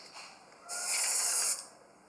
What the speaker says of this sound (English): Spray it again fast again, right here.